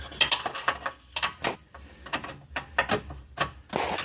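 An 18mm ratchet works on the rear tie rod of a Jaguar XJ8, giving bursts of quick clicking pawl ticks in short strokes with brief pauses between them, close and fairly quiet.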